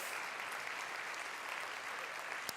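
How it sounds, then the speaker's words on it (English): Audience at a business-building seminar applauds in a continuous, even wash of clapping, faint and distant throughout, with one sharper clap near the end. "I give you all an applause for doing this"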